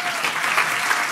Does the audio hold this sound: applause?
yes